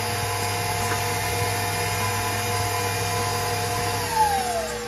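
An electric mixer whirs steadily at close range as dry ingredients go into oatmeal raisin cookie dough in a home kitchen, a constant motor drone with a slight pitch shift near the end and no talking.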